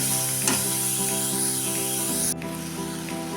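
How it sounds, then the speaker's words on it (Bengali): Prawns fry in a pan for a prawn and taro-leaf paste dish, giving a steady, loud, close hiss and sizzle with music beneath. The sizzle dips slightly partway through. "চিংড়ি মাছগুলো দিয়ে দিলাম চিংড়ি মাছগুলো একটু ভাজা হবে"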